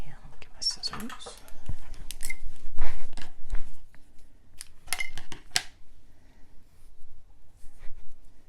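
Scissors snipping decorative paper for a mini album, several quick crisp cuts and paper rustles up close, with someone talking softly between them.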